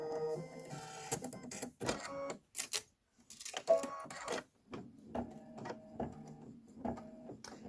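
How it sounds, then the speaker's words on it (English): An embroidery machine stitching a Kimberbell design, giving intermittent mechanical whirs, clicks and rhythmic tapping bursts separated by brief pauses, fairly quiet and close. "And this is going to be 6 minutes of stitching."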